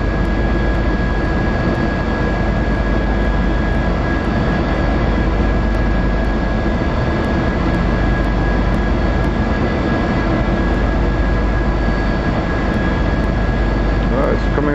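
Tanker aircraft engines roar loud and steady for the whole stretch, a dense continuous jet drone close by, with a voice faintly audible underneath.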